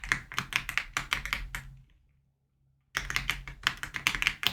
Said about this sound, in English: In the box, I'm going to type